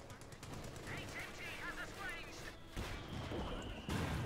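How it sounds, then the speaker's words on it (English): Mortar and machine-gun fire in the Company of Heroes 2 video game, with steady bursts of automatic fire and heavy impacts running throughout under continuous talk from a commentator. "We also got mortar fire, of course, here from Siddolio's mortar and plate."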